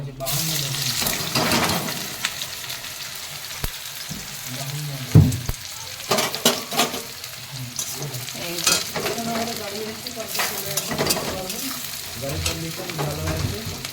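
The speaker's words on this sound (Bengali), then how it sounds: "তেল দিয়ে দেওয়া হয়েছে কড়াইটা হয়ে গেলে এই যে কুচিয়ে রাখা পেঁয়াজটা দিয়ে দেবো" Chopped onion is tipped into hot oil in a wok and fries with a loud, crackling sizzle that swells and fades, broken by clinks and splashes while a voice talks intermittently.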